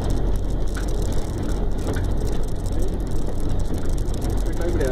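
A 1935 Mercedes-Benz LS truck grinds along with a dense, rattling mechanical clatter of gears and drivetrain as gears are shifted without the clutch, steady and close with no clear talk.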